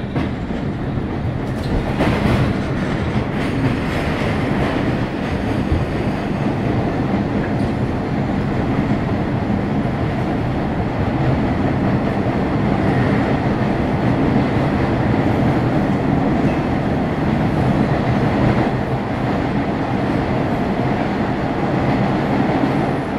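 An MBTA Red Line subway train runs between Kendall and Harvard, with a loud, steady rumble and rattle of wheels on track heard from inside the car and faint squeals, with no speech.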